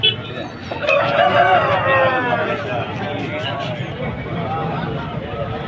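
A rooster crows loudly and nearby at the Vijayawada rooster market, its call rising out of steady crowd chatter and voices that continue throughout.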